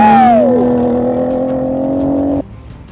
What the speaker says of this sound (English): that crazy exhaust sound only coming from a Ford F-150